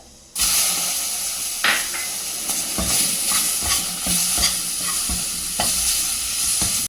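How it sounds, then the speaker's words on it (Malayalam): Steady sizzling of spices frying in a hot pan for a mango curry, with occasional stirring scrapes and clinks, close up and continuous with no voices. "ഒന്ന് വറുത്തെടുക്കുക"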